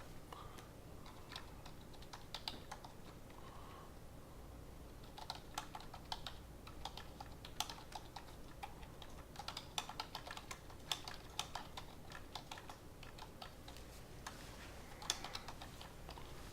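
Steady rapid typing on a computer keyboard while entering C++ code, with close, crisp keystroke clicks in irregular bursts throughout and no talking.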